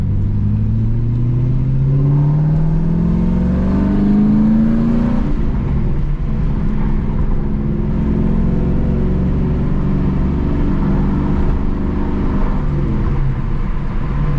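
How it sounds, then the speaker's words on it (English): A 1988 Porsche 928 S4 with manual gearbox revs up steadily on a highway, pitch climbing, then drops as it shifts gear and keeps pulling hard, a continuous roaring drone throughout. "we'll go for a quick blast on the highway, and then run through some gears here."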